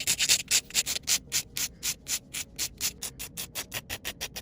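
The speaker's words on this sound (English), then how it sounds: "I'm going to take my fine grit sanding band and I'm just going to remove the shine from the nail tips." Fine grit sanding band buffing the shine off polygel nail tips, a steady series of about twenty quick, evenly paced scrubbing strokes, close and fairly loud with no talk.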